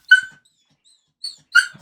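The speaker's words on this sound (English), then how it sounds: "My dog's freaking out." A dog gives three short bursts of sharp, high yelps and whimpering barks, close by, separated by brief silences, with no talk over them.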